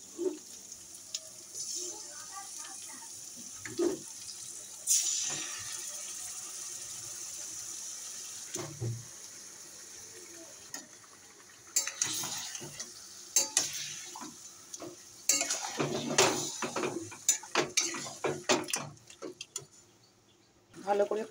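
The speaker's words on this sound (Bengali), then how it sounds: "এবারে আমি একে একে চিকেনগুলো দিয়ে দেবো।" Chicken pieces for biryani go one by one into a pan with ginger and garlic, giving intermittent frying sizzles, stirring scrapes and clatter of pans. A faucet runs in places and a voice talks at times.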